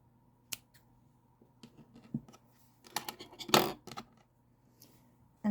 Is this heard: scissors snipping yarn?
yes